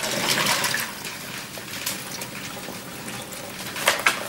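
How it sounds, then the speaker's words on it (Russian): Cooking water being drained from a pot of freshly cooked rice, a rushing, splashing pour that stays strong early, eases off in the middle and ends with a few louder sloshes. "А это значит, что я сливаю быстро воду."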